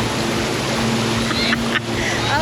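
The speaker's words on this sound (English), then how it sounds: "We made it through the first rapid." River rapids while tubing in the Smoky Mountains, loud rushing, churning water close around the listener, with brief splashes and a continuous wash of noise.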